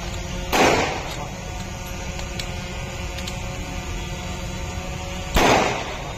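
Gunfire during a police mock drill by the Andhra Pradesh police, two sharp, loud reports about five seconds apart over a steady low hum, with no talking.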